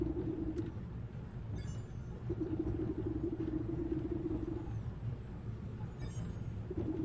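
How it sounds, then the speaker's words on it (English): An old millstone in the Wytchwood video game creaks and shifts, a low groaning drone over a rumbling background, with a few brief sharp clicks and scrapes. "An ominous creaking sound fills the mill as the grindstone begins to shift and warp."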